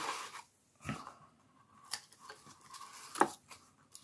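Scissors snip a small protruding piece of paper while assembling a Stampin' Up perfume-bottle box, a few faint, close cuts in a quiet room.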